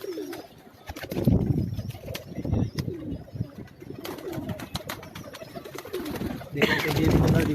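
Rooftop pigeons in a Karachi loft coo repeatedly at close range, with a brief burst of wing flapping, while people talk quietly in the background.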